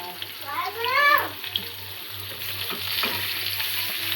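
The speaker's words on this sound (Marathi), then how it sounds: "मी इथे करते मच्छी फ्राय." Fish and prawns frying in a pan at home, a constant sizzling hiss with a few soft stirring clatters; a brief voice-like tonal sound rises early, and a quiet hum runs underneath.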